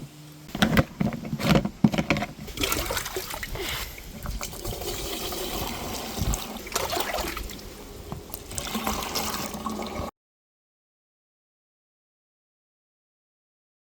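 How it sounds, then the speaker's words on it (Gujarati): A cleaned pesticide sprayer pump filled with plain water sprays a fine mist: a continuous hissing, trickling rush up close with some knocks early on, lasting about ten seconds before cutting to silence. "જો પંપ રેડી થઈ ગયો અને પાણી ભરી દીધું આપણે કંઈક આવી રીતે કામ કરશે જોવાનું મસ્ત ઝીણું ઝીણું પાણી આવશે એનું"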